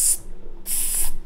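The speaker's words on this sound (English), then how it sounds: "You guys could just hear this, the quality of the spray" An aerosol perfume bottle gives two close, sharp hissing sprays, a short burst followed by a longer one after a brief pause.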